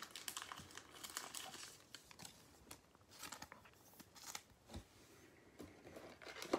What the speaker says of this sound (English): there's a plastic film that goes over both sides of the cards